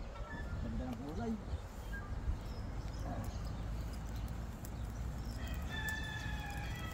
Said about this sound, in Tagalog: Tumitilak na manok.